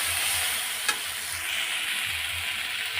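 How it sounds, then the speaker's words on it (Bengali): Water poured into a hot pan of frying vegetables for a papaya and potato curry gives a steady, close hissing sizzle with a brief sharper burst partway through; no one speaks. "জল ঢেলে দিলাম"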